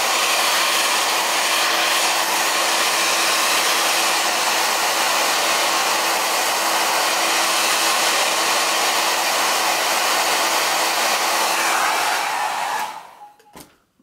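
A hair dryer blows steadily and close over a wet watercolor painting, a constant loud whooshing hum with a faint tonal whine, before it switches off and winds down near the end.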